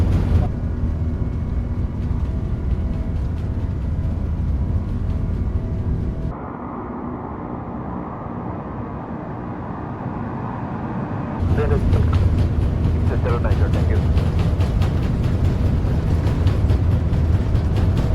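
Airliner engines spooling up and roaring through a takeoff roll in Microsoft Flight Simulator 2020, a steady loud rumble that drops briefly to a quieter hum before surging back, with cockpit voices calling out over it.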